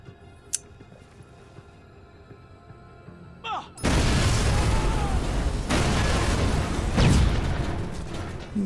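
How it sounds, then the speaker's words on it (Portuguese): Explosion in the video game Watch Dogs: after a quiet stretch, a sudden loud blast breaks out into a sustained roaring, crackling burst that lasts several seconds. "eu acho que eu chamei bastante atenção com essa explosão"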